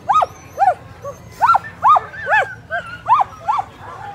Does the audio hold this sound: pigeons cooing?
no